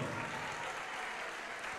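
A church congregation claps continuously during a sermon in a dense, even wash of applause that holds steady for a couple of seconds.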